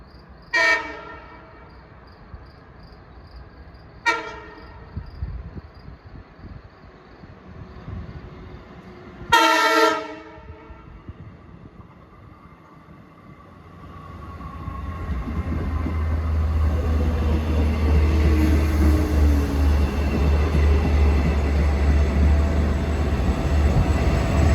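Long Island Rail Road train 6071, running from Patchogue to Babylon, sounds three loud horn blasts as it approaches, then rumbles past close by with a deep, steady roar of wheels and engine.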